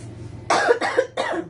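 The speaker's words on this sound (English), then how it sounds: "Not completely over the coughing" Three harsh coughs in a row, close and loud, each a short rasping burst with brief pauses between.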